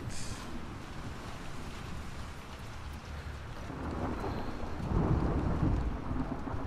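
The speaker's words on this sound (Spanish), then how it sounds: "Está lloviendo" Rain pours steadily in The Last of Us Part II on PS4, and a deep rumble of thunder swells in partway through and grows louder toward the end.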